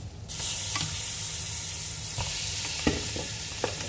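Pieces of meat tipped into a hot pot and stirred, a loud continuous sizzle with a few scraping knocks of a utensil against the pot, close up and without talk.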